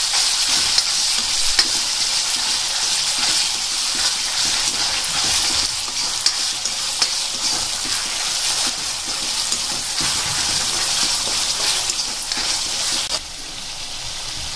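Ground masala paste frying in a pan, with a dense, loud, even hiss of sizzling oil and occasional faint stirring clicks, close up, easing slightly in the final second.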